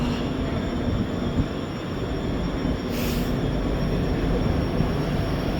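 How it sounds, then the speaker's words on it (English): A train passes through Ayr Station with a steady loud rumbling roar of wheels on track, a short higher squeal partway through, continuous and close with no talking. "It's a train."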